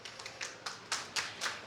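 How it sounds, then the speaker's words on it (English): Sparse, light clapping from a small, intimate audience welcoming a speaker: a handful of separate claps rather than a full ovation, fairly quiet and close. "please, big round of applause for Summer Curtis"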